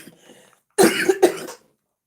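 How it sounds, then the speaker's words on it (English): A person with a bad, painful cough lets out a short burst of two or three harsh, close coughs after a brief quiet murmur, then silence. "once I start coughing, that's how bad my coughing is"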